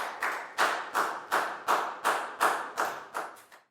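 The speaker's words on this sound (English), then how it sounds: "Give yourselves all a big round of applause" A school class claps together in a steady, even rhythm, about ten sharp unison claps close by with brief gaps between them and no talking.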